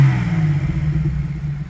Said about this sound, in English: So go ahead and rev it up one more time.